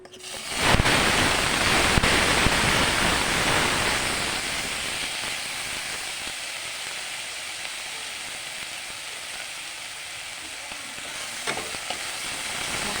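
Water is poured into a pot of frying masala made from ginger, garlic, chili and onion pastes with cumin, for a small-fish-head and ash gourd ghonto. A sudden loud burst of sizzling fades over several seconds into a steady, close frying hiss.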